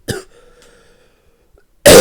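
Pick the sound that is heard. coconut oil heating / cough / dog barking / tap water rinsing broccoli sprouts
cough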